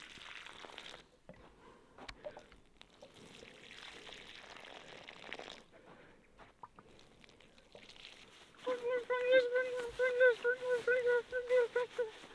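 A soft, low background, then water pours steadily in bubbling, gurgling surges toward the end while watering strawberry plants.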